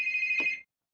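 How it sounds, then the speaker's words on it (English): A phone rings with one short electronic trill tone that cuts off abruptly, loud and close, with no voices. "I'll bring the phone to my grandma."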